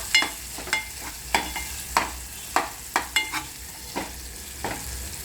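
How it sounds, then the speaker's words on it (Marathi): A spoon stirs and mashes tomatoes in a hot pan for a quick toor and moong dal, with regular scraping strokes about every half second over a steady faint sizzle and no talking. "टोमॅटो पूर्ण मॅश करायचे पूर्ण गरम झालं पाहिजे टोमॅटो"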